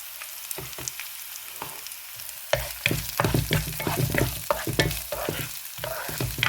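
Ginger, garlic, green chillies and dried red chillies fry with softened onions for tomato rice. A soft sizzle gives way to louder, close, repeated stirring scrapes against the pan over a steady frying hiss.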